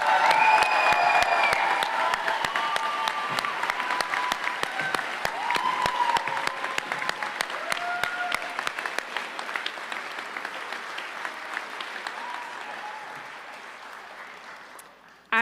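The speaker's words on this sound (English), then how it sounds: "Let's get another really big round of applause for these guys" An audience at the Spokane Valley Tech class of 2025 graduation gives the graduates a big round of applause, with some cheers and whoops early, the clapping gradually thinning and fading toward the end.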